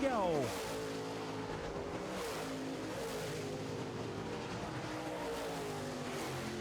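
Late model stock cars race around an oval dirt track, engines droning and shifting pitch as they pass, with a loud rising-and-falling pass-by at the start. A race announcer talks continuously over the sustained engine roar.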